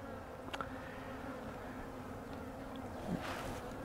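A tiny bee swarm at its hive makes a faint, steady buzzing hum, with soft wind noise and a few brief louder passes of individual bees.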